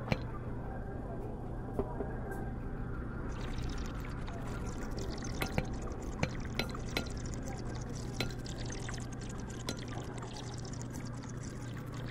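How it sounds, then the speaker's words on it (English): A smoothie pours from a blender into a cup in the VR game Job Simulator, a steady liquid gurgle running through the whole stretch with small clicks and drips over a constant game hum. "Pour it out into a cup and then we can serve it."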